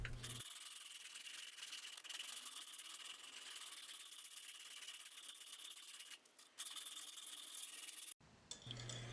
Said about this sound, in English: follow that up with a whole bunch of hand sanding